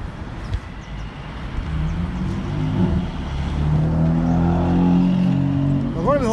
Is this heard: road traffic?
yes